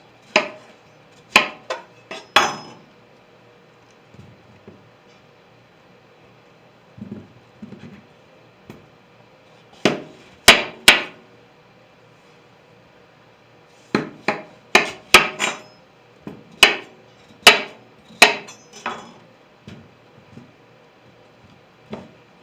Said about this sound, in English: Chopping the pumpkin in little chunks.